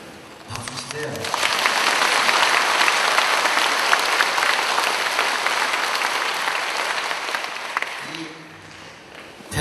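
Audience at a Saturday Buddhist temple service marking its 100th session breaks into sustained applause, a dense wash of clapping that swells, holds for several seconds and fades, with brief speech at the edges.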